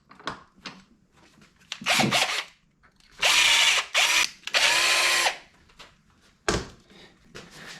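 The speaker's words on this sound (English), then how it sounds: "After drilling the holes, we want to cut the threads." A power drill bores holes for the carburetor idle screws on a Yamaha Banshee motor during a stock rebuild, running in several loud whining bursts of a second or two each, with short pauses and small handling clicks between them.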